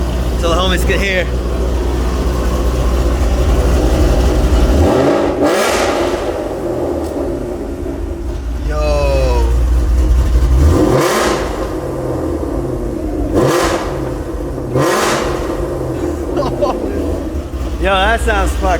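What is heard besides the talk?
cammed Ford Mustang GT500 with Corsa Xtreme exhaust revving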